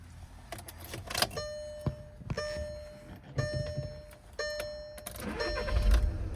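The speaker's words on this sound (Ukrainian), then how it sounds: "заводиться автомобіль з півоберту" A 2013 Volkswagen Jetta starts up at close range: a short crank catches and the engine settles into a smooth idle, with door thunks, clicks and electric window or seat motor whirs around it.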